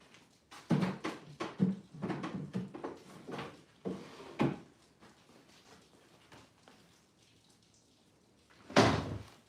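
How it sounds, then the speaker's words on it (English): Drawers are pushed back into a cabinet, making a run of wooden slides, knocks and thunks in quick succession. A quieter stretch follows, then a final sharp bump near the end. "Let me just put the drawers in"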